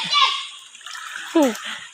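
Two children swim and splash in a fast-flowing stream, with water sloshing and a voice calling out over the moving water.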